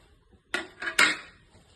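A spoon clatters against a bowl as chopped curry leaves, ginger and green chilli are mixed, making three short, sharp knocks in an otherwise quiet kitchen.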